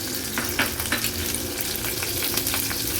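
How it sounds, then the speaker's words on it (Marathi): Steady sizzling of garlic cloves, onion and green chilli frying in hot oil over a medium flame, with faint crackles and a few soft stirring sounds throughout. "तेल पण छान गरम झालं आहे फोडणीला मी लसणाच्या पाकळ्या घालते"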